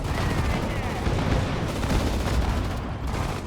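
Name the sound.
gunfire in Sudden Strike 4 video game battle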